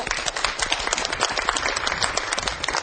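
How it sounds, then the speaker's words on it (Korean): A studio audience on a Korean housekeeping show applauds as a guest lecturer walks on, bright, brisk clapping from many hands, steady and fairly loud across the whole stretch. "박수로 모시겠습니다."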